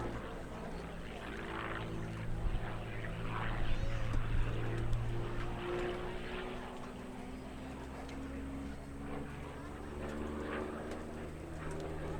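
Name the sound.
P-40 Warhawk aircraft high-speed pass at air show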